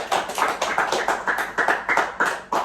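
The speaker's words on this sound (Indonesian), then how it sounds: "Tepuk tangan untuk Rahma." Students clapping together in a classroom, a rhythmic unison pattern of about a dozen sharp, evenly spaced beats, fairly close and with no talk.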